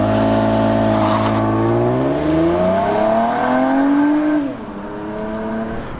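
A 2020 Toyota Avalon TRD engine revs up hard off the line, pitch climbing steadily over several seconds as it accelerates, then drops off sharply as it shifts or eases away.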